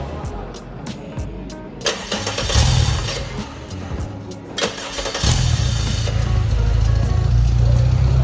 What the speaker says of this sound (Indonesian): Setelah itu kita nyalakan dulu engine atau mesin mobil ini.